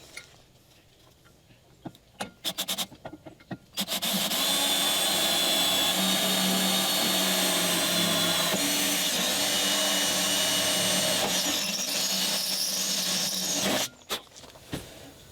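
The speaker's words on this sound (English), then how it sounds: "I'm going to drill a hole here, 1/4 inch hole here, and a 1/4 inch hole there." A power drill bores quarter-inch holes in a DIY beach cart frame, with a sustained loud whine of about ten seconds, preceded and followed by brief clicks and handling noise.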